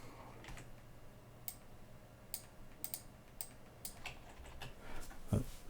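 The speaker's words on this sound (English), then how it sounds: "I'm hitting notes on my laptop keyboard, and I'm sending those MIDI notes here." Laptop keyboard keys pressed to send MIDI notes, a scatter of faint, irregular clicks and taps over a quiet room hum, ending with a slightly louder knock.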